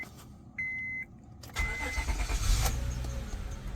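A chime beeps briefly, then the engine of a 2005 Honda Accord that had not run in years cranks and starts, settling into a steady idle close by.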